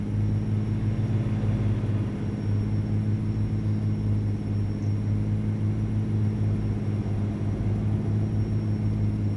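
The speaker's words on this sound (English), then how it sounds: "The engine sound is actually the cat pack from Z Mods" Steady truck engine drone from a cat sound pack in American Truck Simulator, a continuous low rumble that holds an even level throughout, with no voices.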